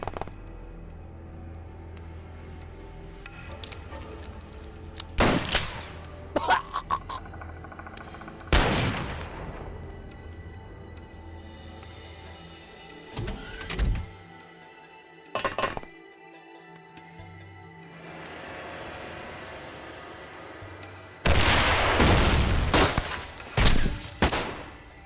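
An incendiary rocket fires in the XCOM game, heard as a few separate loud bursts and blasts spaced across a quiet stretch, ending with a longer crackling explosion.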